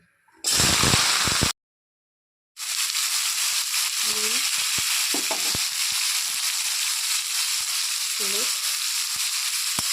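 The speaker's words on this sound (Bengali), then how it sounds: "এখন আমি কড়াইয়ে সর্ষের তেল দিয়ে দিয়েছি, এর মধ্যে দিয়ে দিচ্ছি একটা টুকরো টুকরো করে কেটে রাখা বেগুন" Cut eggplant pieces hit hot mustard oil in a wok and sizzle loudly and continuously, with a brief silent break and a few scraping stirs over the frying.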